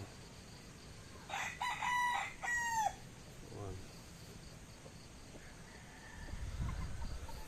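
A rooster crows once at a modest distance on a Filipino backyard farm with a few tethered chickens, followed by soft clucking and faint rustling against a quiet outdoor background.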